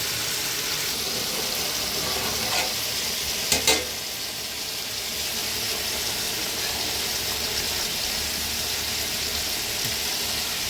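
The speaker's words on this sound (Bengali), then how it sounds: "সবজি ভেজে নিয়েছি, এখন খিচুড়িতে দিব।" Fried vegetables such as ridge gourd stirred into a pot of simmering Bengali vegetable khichuri with black gram dal and jackfruit seeds, giving a steady broadband sizzle with a brief clatter of stirring near the middle and no voices.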